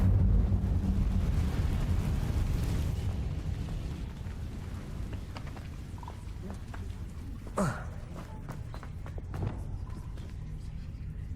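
An Incendio fire spell cast in Hogwarts Legacy gives a loud rushing, roaring burst that slowly fades, followed by scattered crackles and sharp magical pops.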